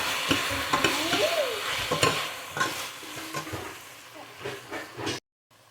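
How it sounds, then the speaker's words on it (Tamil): Chopped okra sautés in a pan for homemade sambar, with a close, steady sizzle and repeated scraping stirs of a spoon. It cuts off abruptly near the end. "வெண்டைக்காயும் நல்லா வதக்கணும்."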